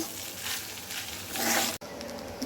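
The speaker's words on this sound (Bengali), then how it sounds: "রাইসটাকে তেলের উপরে এভাবে ভেজে নেব।" Rice fries in hot oil in a pan over a raised flame for egg vegetable fried rice, giving a soft, even sizzle with a rising surge, a brief cutout, then quieter crackle.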